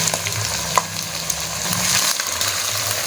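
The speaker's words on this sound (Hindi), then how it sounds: "अब हम इसके अंदर टमाटर शामिल करेंगे" Tomatoes go into a pan of frying ginger and garlic for dhaba-style chicken chana daal. A steady close sizzle runs throughout, with a few sharp clinks and stirring scrapes. Nobody speaks.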